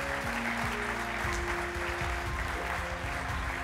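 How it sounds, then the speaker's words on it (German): An audience at a tourism conference opening gives warm applause to welcome the state secretary for tourism, a steady dense clapping that stays even throughout, with a low hum and tones underneath. "Begrüßen Sie mit einem herzlichen Applaus die Staatssekretärin für Tourismus, Susanne Kraus-Winkler"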